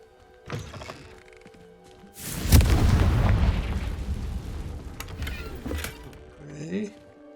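Confringo fire-blast spell cast in Hogwarts Legacy, a loud booming burst that starts abruptly and rolls on in a long rumbling decay for several seconds, with faint game sounds before and after.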